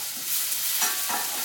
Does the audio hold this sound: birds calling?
no